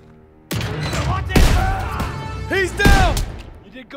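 Shotgun blasts in the World War II shooter Call of Duty: WWII, fired in a close-quarters factory fight: several loud, booming shots spaced irregularly over a few seconds, with faint game voices and combat noise between them.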